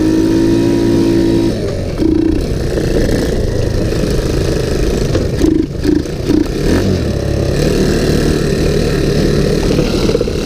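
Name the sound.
small ATV engine running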